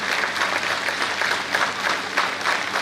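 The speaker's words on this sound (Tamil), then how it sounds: "நீங்க எல்லாம் எழுந்து குழந்தைங்களுக்காக கைத்தட்டணும்" A hall full of parents claps continuously for children at a dance school's world-record event, dense steady applause that stays even throughout.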